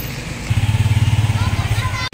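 Motorbikes pass along a rough, freshly dug dirt road, a nearby engine chugging with a steady pulsing rhythm for over a second while someone talks over it.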